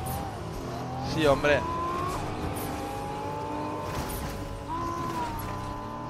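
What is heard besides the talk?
car driving in Fortnite video game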